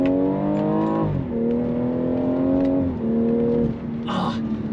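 A BMW M240i accelerates hard on a back road, the engine climbing steadily through the gears with clear pitch drops at each shift, loud and close from inside the car.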